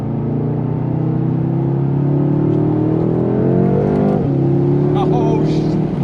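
A turbocharged BMW F10 M5 with a JB4 tune on brand-new winter tires pulls hard in a second-gear roll. The loud, continuous engine note climbs steadily in pitch, dips briefly at a shift, then keeps rising.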